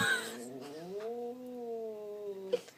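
A mother cat gives a drawn-out, rising and falling yowl at close range, a single sustained wavering cry lasting a few seconds with no talking over it.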